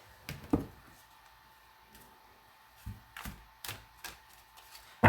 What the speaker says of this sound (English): Why am I still shuffling those?